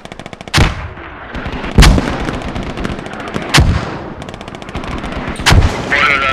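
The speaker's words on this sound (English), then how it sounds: "Rounds out on mortars." Heavy gunfire and mortar blasts from a tactical multiplayer squad video game, with four loud booming impacts spaced a second or two apart over continuous rapid rifle and machine-gun fire, no talking.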